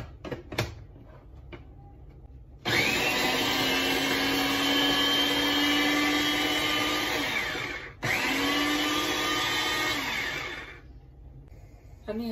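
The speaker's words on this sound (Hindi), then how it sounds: "अब इसी में मैं ये पांच हरी मिर्चें हैं इस साइज की, इनको भी ग्राइंड कर लेती हूँ।" Electric mixer-grinder blitzing five green chilies in a kitchen, a loud high whirring motor in two bursts, the first about five seconds long, then a brief stop and a second shorter run.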